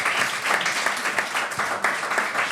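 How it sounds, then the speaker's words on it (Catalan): Students applaud a science talk guest and the audience, a loud, dense burst of many hands clapping continuously in a hall with no pause. "Un aplaudiment ahí ben fort."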